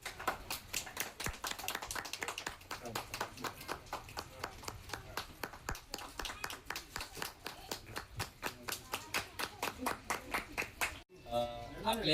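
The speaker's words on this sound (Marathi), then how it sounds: "टाळ्या रे टाळ्या" Rhythmic, evenly spaced clapping from an audience at a community tree-planting event, a steady beat of close, crisp claps that runs almost unbroken before a brief pause near the end.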